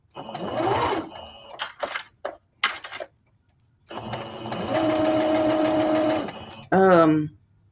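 A sewing machine stitches a skirt being turned into palazzo pants, running in several short bursts and then one steady run of about two seconds. A brief voice follows right after the stitching.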